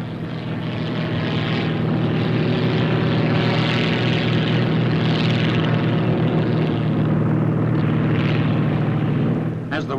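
A propeller airplane drones steadily and loudly as it approaches to land on the deck of a boat, its engine hum continuous and close throughout.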